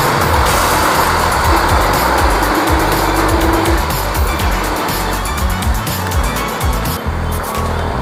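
Heavy road traffic in a congested street, with dense engine rumble, passing vehicles and occasional tire noise filling the scene loudly and close by, all without talk.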